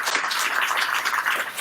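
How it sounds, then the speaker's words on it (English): Audience applauding at a Slavoj Žižek conference, steady dense clapping throughout the short stretch at moderate, even level. "give a round of applause for Slavoj and Russ"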